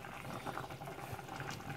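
Humba, a Filipino braised pork adobo, simmers in a pot, giving a steady soft bubbling and gurgling with no talk over it.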